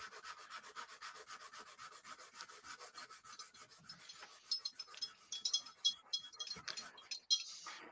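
Sheet of 180 grit sandpaper rubbing back and forth across wood at a craft table, a steady close scratchy hiss that grows choppier and more uneven partway through, with a few light clinks and faint voices in the background.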